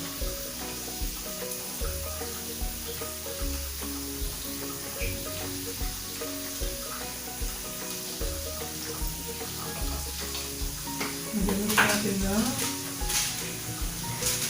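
Pork chop sizzling and frying in a pan, a steady moderate crackle throughout with a brief louder burst of sizzle near the end; no voices.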